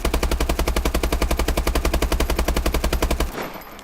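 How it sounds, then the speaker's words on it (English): Rapid sustained automatic fire from the Bal-27 rifle in Call of Duty Advanced Warfare, a fast even stream of loud close shots lasting about three seconds before cutting off into a brief fading tail. "the normal Bal will shoot at this rate of fire"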